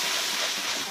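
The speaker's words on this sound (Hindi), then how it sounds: "तेल गर्म हो चुका है, इसमें मसाला ऐड करना है।" Ground masala spices hitting hot oil in a pan for a fish curry, giving a steady broadband sizzle and hiss that stays even and close throughout, with no talking.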